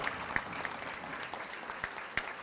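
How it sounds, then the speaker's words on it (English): Applause at a high school sports banquet, a steady wash of many hands clapping, moderately loud, with a few sharper individual claps standing out. "Give them a round of applause."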